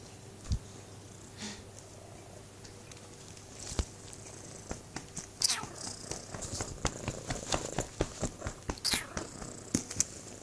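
A cat purring close up in a quiet room, a soft continuous rumble broken by scattered small rustles and a few sharper noises, with no talk.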